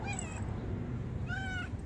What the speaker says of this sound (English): I hope you're an outdoor cat.